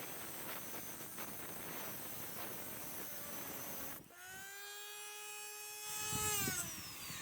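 A Dremel rotary tool cuts off screws on a Suzuki Samurai windshield wiper arm, a high-pitched whine that starts abruptly partway through and rises in pitch, heard after a stretch of hissy background noise.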